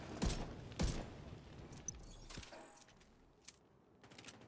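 Gunfire from the Diamondback rifle in the video game The Division 2, two loud separate shots followed by a third quieter report and faint distant pops, echoing in an open space.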